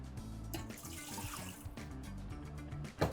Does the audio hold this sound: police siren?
no